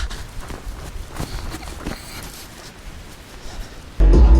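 Quick footsteps patter along a path at a running pace in strong wind, close by and moderately loud, ending in a sudden burst of low rumbling noise.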